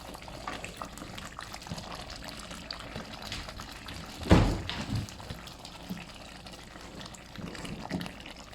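Egusi vegetable soup splashing and bubbling in a cooking pot, a soft, continuous liquid sloshing with one louder splash near the middle, close by and with no speech.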